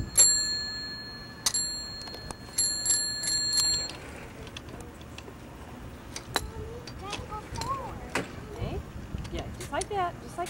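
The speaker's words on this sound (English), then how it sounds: "Where's the little bell?" A small bell on a child's tricycle or bike rings in a few quick, bright dings near the start, followed by outdoor background noise with chirps and scattered knocks.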